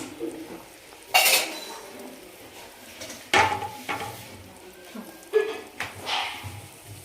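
Stirring and scraping in a pot of free-range country chicken curry with raw coriander added, three distinct loud scraping strokes with light clinks, separated by quiet pauses.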